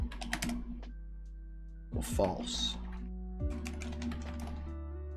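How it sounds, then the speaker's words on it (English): Keys clatter in quick bursts on a computer keyboard, close and clear, with pauses between runs while a person talks quietly. "Am I typing the wrong thing?"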